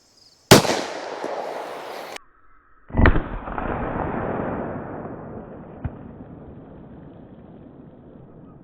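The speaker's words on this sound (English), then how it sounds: "Come on, VMAX, don't let me down" A Palmetto State Armory 5.7 Rock rifle firing VMAX ammo outdoors: two loud, sharp blasts a few seconds apart, each rolling away in a long, fading boom and echo.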